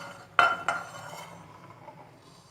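Kneaded meatball mixture dropped into an oven baking dish, two sharp clinks against the pan in quick succession followed by a soft ringing decay, quiet and close.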